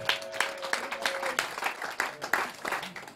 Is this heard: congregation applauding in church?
yes